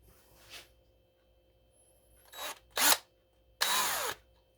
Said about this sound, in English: 1/8 inch drill bit.